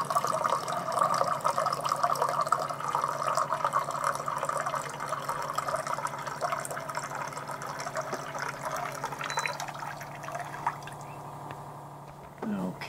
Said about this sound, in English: It seems to be able to keep up with filling, you know, this 350 milliliter cup.